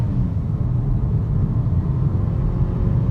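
A 2015 Mercedes-Benz CLA250 pulls hard from a standstill on a 0 to 60 run, giving a loud, steady engine drone and low rumble with no talk.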